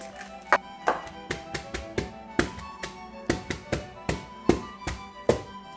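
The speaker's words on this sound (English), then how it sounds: "Shake it a little bit so it can evenly spread." A 9x9 baking pan of keto bread batter rattles as it is shaken on a counter, a quick run of about a dozen sharp knocks at an uneven, jostling rhythm, close and fairly loud.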